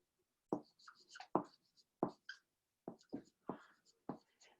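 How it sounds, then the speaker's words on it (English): Chalk or marker strokes on a board during a lesson, quiet separate taps and short scratches in an uneven rhythm, with soft breathy sounds between the strokes. "So I'll write this up here."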